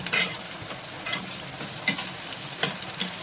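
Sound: frying carrots in a pan

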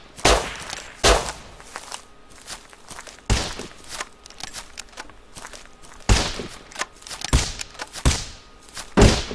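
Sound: gunshots in the video game Rust

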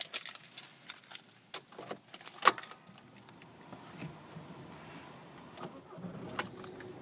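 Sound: Volkswagen Jetta SE TDI diesel engine starting up

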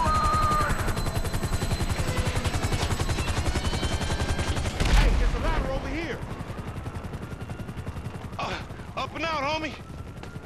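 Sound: helicopter overhead in video game GTA V

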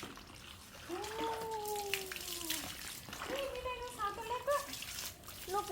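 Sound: water splashing while bathing toy dinosaurs

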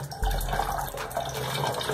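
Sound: water being poured into a bottle

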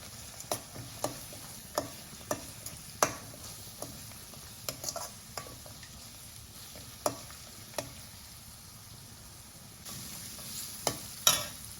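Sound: curry leaves frying and being stirred in a pan

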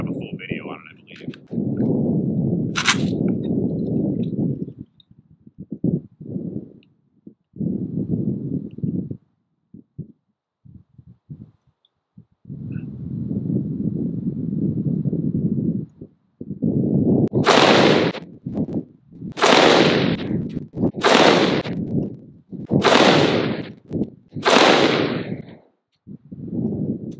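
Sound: gunfire from Arsenal SAM7 AK-47 with Winchester PDX Defender ammo

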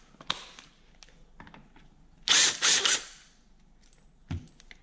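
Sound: 24 mm socket ratchet removing Toyota transmission detent spring

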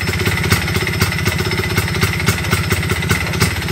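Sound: MZ ETZ 301 motorcycle engine running

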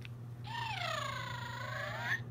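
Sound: purple pygmy puff plush toy making noise

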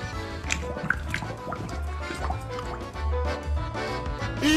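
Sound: child playing with water

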